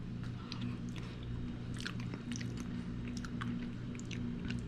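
Pot roast is eaten with a fork, soft close chewing and moist squishing bites repeating in a slow irregular rhythm over a low room hum.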